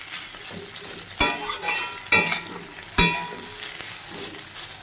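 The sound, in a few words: gourd peel and potatoes frying and being stirred in a wok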